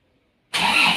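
A car engine is cranked by its starter and catches, a sudden loud burst after half a second of silence that holds steady to the end, with no talking.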